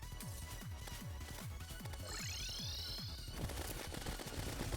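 Rapid automatic gunfire from the Mega Shark gun in Terraria, a fast steady stream of shots over game music and effects, with a rising whooshing sweep in the middle.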